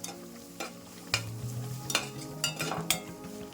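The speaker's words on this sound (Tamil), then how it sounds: "அப்புறம் புதினா இலை கொஞ்சம் சேர்க்குறேன். கொஞ்சம் நல்லா வதக்கிக்கலாம்." Mint leaves sautéed in a pan give a low frying sizzle, with several sharp scrapes and knocks of a spoon stirring against the metal at an uneven pace.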